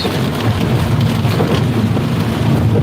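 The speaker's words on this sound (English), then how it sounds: "So there is some thunder and lightning going on." Heavy rain pours steadily during a thunderstorm, a dense, loud wash of noise with low rumbling underneath and some wind buffeting the microphone, no voices.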